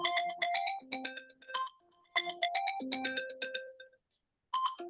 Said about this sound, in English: sorry about my telephone ringing